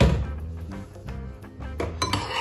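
Yogurt starter culture is whisked in a bowl, producing quick clinking and tapping of the whisk against the container in an uneven rhythm, close and fairly loud.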